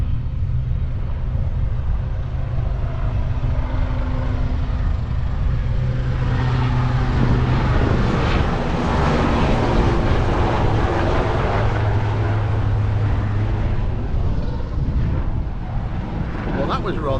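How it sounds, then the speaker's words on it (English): Helicopter passing close under a bridge over the Kiel Canal, a loud, steady rotor and engine roar that swells and holds through the middle before easing, with talk faintly underneath. "the helicopter just flew right under the bridge in front of us"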